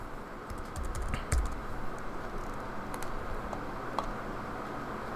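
Computer keyboard typing, soft and fairly close, with scattered individual key clicks and a few brief bursts of taps over several seconds in a quiet room.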